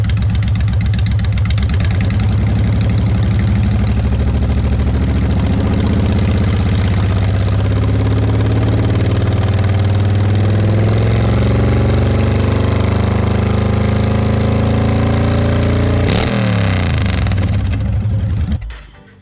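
Honda Fury motorcycle with Cobra Speedster Straight Shots exhaust, idling loud and close with a steady lumpy rumble, then a sharp rev near the end before the engine cuts off.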